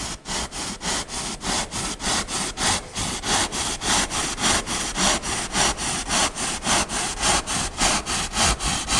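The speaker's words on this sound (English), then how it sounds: "Now I'm going to drill a few of these holes in there. We call this a drill rasp." A hand-powered drill rasp works holes into a wooden heart, giving off steady, rhythmic rasping strokes at about three per second, close and unbroken.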